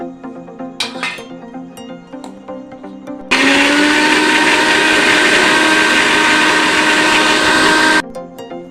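An electric blender grinds tomato, ginger and garlic into a paste, a loud steady whirring drone for about five seconds that starts and stops abruptly, with faint background music before and after.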